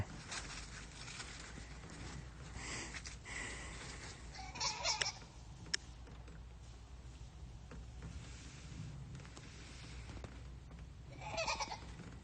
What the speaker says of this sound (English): You'll hear some goats